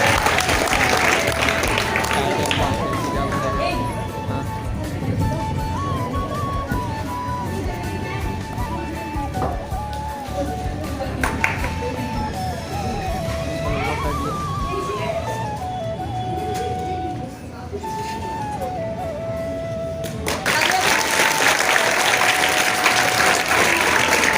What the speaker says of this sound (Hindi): जोरदार तालियों से स्वागत करिए मिस्टर अंजनी मिश्रा सर का